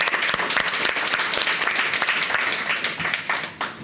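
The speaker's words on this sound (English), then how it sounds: "I'm going to give a round of applause." A large audience at an animation industry panel claps in dense, sustained applause, a loud even wash of hand claps that tapers slightly toward the end.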